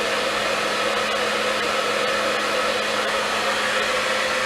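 A hair dryer running on a medium setting with high heat while drying hair, giving a loud, steady, close-up whoosh of airflow that holds constant throughout with no voices.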